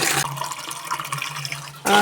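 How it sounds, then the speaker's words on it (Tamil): Tap water runs steadily into a household vessel, a continuous splashing fill with a low hollow tone, close and fairly loud, ending abruptly near the two-second mark. "தவறையில் தண்ணியும் பிடிச்சி வச்சுக்கிட்டேன்"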